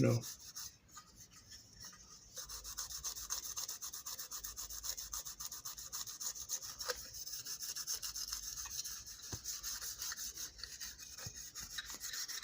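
Close, quiet scrubbing rasps back and forth as grime is worked out of old paint on a prewar American Flyer Texaco toy tank car from 1929 to 1932, a steady rubbing rhythm throughout.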